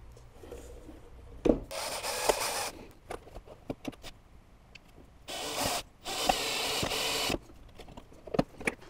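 Beech plywood handle being screwed onto a beech plywood sorting box, with bursts of rasping, rubbing wood-and-tool noise and scattered clicks and knocks, close and fairly quiet, no talking.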